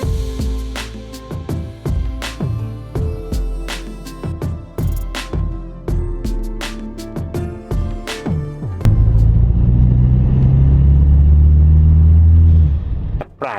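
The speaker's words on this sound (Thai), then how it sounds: "การเติมคันเร่งอย่างเงี้ย มันไม่ต้องเติมเยอะ รถมันก็พุ่งไปข้างหน้าได้อย่างรวดเร็ว" A tuned BMW N20 turbocharged four-cylinder car accelerates hard, with a loud, steady engine roar building up close after a stretch of sharp mechanical clatter and knocks, ending abruptly.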